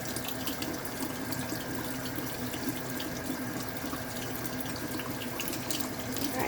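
Tap water runs steadily into a sink, rinsing etching cream off a piece of glass; a continuous, fairly loud splashing flow throughout with no pauses.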